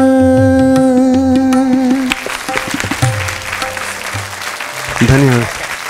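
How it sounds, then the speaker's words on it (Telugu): Audience applause breaks out after a devotional song, a dense clatter of many hands following a held sung note, with a voice speaking over the clapping toward the end. "ఈ చప్పట్లు మీకు అనుకుంటున్నారా?"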